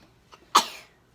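A single sharp sneeze, close and sudden, preceded by a faint intake of breath, then quiet.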